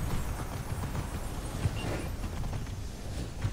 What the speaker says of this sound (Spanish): Vamos con nuestro caballito.